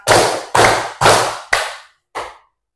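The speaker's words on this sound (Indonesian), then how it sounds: "Clue-nya adalah tepuk tangan." Four sharp hand claps in a steady rhythm, then a short pause and a fifth clap, loud and close with no talking.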